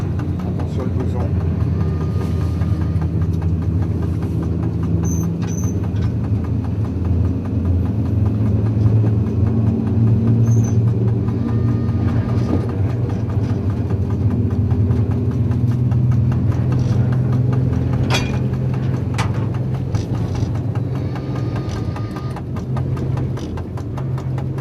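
A CC 72000 diesel locomotive hauls a heavy 500-tonne passenger train of eight Corail coaches, giving a continuous loud engine rumble for the whole stretch, with faint voices and brief higher clanks over it.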